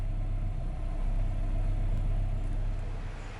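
A VW Golf Mk2 1.8 with a Pierburg carburettor, idling at about 1,000 rpm, a steady low, even rumble held close and unchanging, with no talking.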